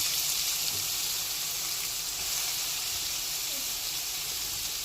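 Onions and green chillies sizzle in a pan of hot oil for a drumstick and egg curry, giving a steady, even hiss that holds without a break.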